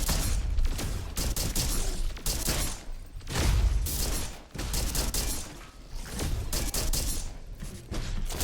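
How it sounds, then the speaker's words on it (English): Sustained turret fire from the game Colonial Marines: rapid, dense bursts of shots hammering on for the whole stretch, loud and close, dipping only briefly between volleys. "Boy, that particular turret is, well, a little bit of a nuisance, you know."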